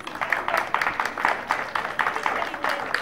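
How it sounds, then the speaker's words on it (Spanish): Applause and clapping from a school audience for the children taking part in an International Mother Language Day event, steady bursts of many hands with some voices mixed in. "Un aplauso para los niños que están"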